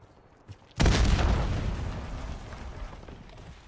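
A grenade detonates in a PS5 video game, a single loud boom with a sharp onset followed by a long rumbling decay, preceded by a small pop.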